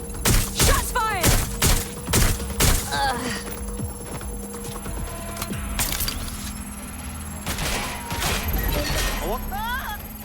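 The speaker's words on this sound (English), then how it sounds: "Shots fired!" Bursts of gunfire in the video game Watch Dogs: Legion crack and rattle in quick volleys, loud and close. Heavy impacts and mechanical clatter come with them, and voices shout over the firing.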